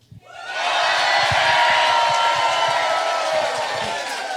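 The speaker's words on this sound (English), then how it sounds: "On the count of three, the crowd goes wild" A live TV studio audience bursts into loud cheering and whooping, a sustained wall of crowd noise that swells quickly and holds, with scattered clapping underneath.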